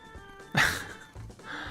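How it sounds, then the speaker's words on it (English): A pet cat gives one loud, close meow. A quieter second cry follows after a pause. "I'm starving my cat of attention just so he'll meow"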